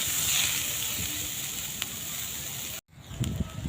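Beans and carrots fry in a pan, a continuous close sizzle and hiss that cuts out abruptly near the end before a few soft knocks and stirring sounds return.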